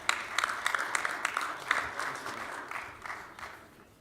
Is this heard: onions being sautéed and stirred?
no